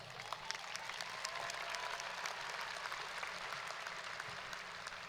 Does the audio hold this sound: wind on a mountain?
no